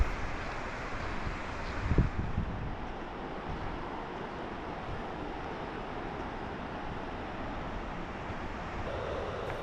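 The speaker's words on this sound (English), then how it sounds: "get a good look at the water rushing by" Deschutes River water rushing through a canyon near Steelhead Falls in central Oregon, a broad continuous roar heard alone at moderate distance, with a brief bump partway through.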